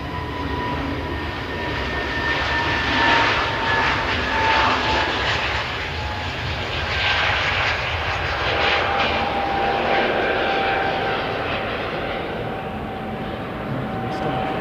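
Jetstar jet airliner passing at an airport, a steady broad engine roar with a faint whine holding across the whole stretch, fairly distant and without talk.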